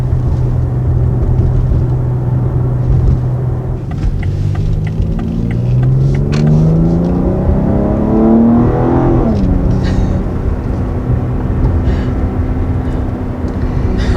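A 2020 BMW X3 M, a 500-horsepower crossover, cruising in sport mode around 3,000 RPM with a loud, steady engine drone and a rising, sweeping tone as it accelerates, then settling back, with no talking.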